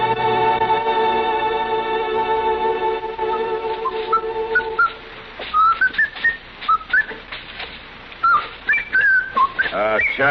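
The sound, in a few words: whistling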